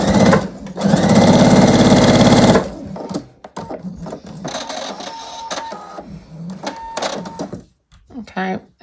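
Sewing machine piecing quilt blocks from solid fabric scraps runs loud and steady for about two and a half seconds, then stops, followed by quieter handling noises and light clatter.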